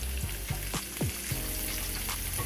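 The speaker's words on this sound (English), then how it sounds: "I'm going in with all of the peppers and the scallion and the ginger and the garlic and the onion, everything going in the pot" Chopped peppers, scallion, ginger, garlic and onion sizzle in a hot pot for vegan tofu, with a steady loud frying hiss and a few soft stirring scrapes and knocks.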